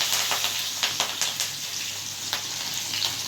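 Steady sizzle of chopped garlic and chillies frying in hot oil, with sharp crackles and pops scattered through it.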